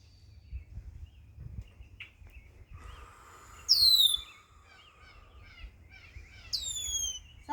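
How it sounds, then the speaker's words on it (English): Outdoor birdsong with a few clear, loud descending chirps standing out against a quiet background, plus fainter calls in between. "Sounds like the birds are laughing at me."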